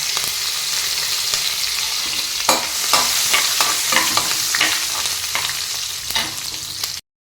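Steady, close sizzle of green chillies frying in oil with crackling bursts and occasional stirring clatter, continuous throughout without any voices.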